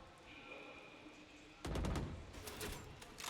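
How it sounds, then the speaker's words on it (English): Gunshots in the Valorant video game on the Icebox map during a pro match: a sudden loud burst of rapid shots, followed by a few more scattered cracks, all fairly distant within the game's steady ambient hum. "Couple shots coming across"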